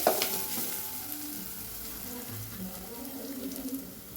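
Steady oily sizzling and frying of garlic and cumin in a pan, with light stirring scrapes, fairly close and continuous throughout.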